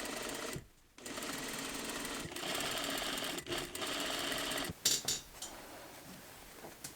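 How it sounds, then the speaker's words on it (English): Sewing machine understitching seam allowance to bias tape on a dress made from a bedsheet, a steady close mechanical whirr with brief pauses and a few sharp clicks near the end. "Now you can understitch, which is essentially stitching the seam allowance to the bias tape really close to the seam."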